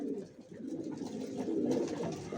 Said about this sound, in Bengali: এখানে সব অ্যাডাল্ট কবুতর